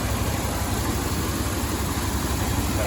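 A 5.3-litre LS V8 in an Escalade idles steadily with a faint exhaust tick, a loud, continuous low rumble with no talk over it.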